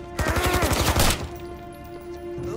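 Rapid bursts of gunfire from a shootout on the upper levels of a gallery in the Mafia game, a loud fusillade of crackling shots for about a second, then fading ringing tones.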